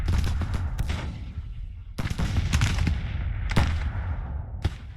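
Artillery and rifle fire in a Civil War strategy game: sharp loud gunshot cracks and booming reports at irregular intervals, with rolling rumble between the blasts.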